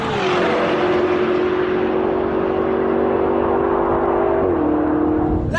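A heavy BMW M5 safety car driven hard on a race track, its engine holding a loud sustained drone that steps down in pitch with a gear change, with road and wind roar, heard from inside the car, no voices.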